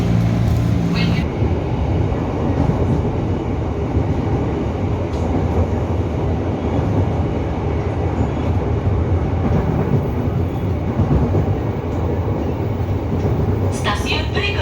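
Steady rumble and rattle of an electric commuter train running in Jakarta, heard from inside the car, with continuous rail noise throughout and brief voices at the start and end.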